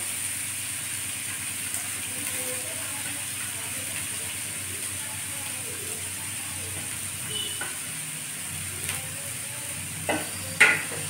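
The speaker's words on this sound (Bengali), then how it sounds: "আমি পেঁয়াজ কুচিটা দিয়ে দিলাম। এগুলো ভালো করে ভাজা ভাজা করে নেব।" Chopped onion and ginger fry in a pan with a soft, steady sizzle and hiss, joined by occasional light stirring clinks that grow a bit louder near the end.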